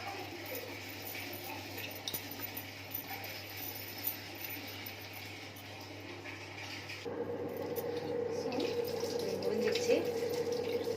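A tap runs steadily as a scrubbed vessel is rinsed clean with water, the flow growing louder and fuller partway through, alone and continuous at close range.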